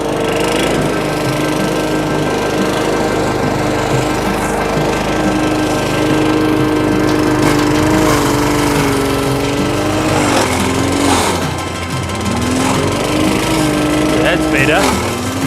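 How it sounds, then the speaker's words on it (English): A lawn mower engine drones loudly and steadily while scalping kikuyu grass, its pitch dipping and surging as the blades bog down, with a voice faintly audible underneath. "this exercise is quite harsh on lawn mowers"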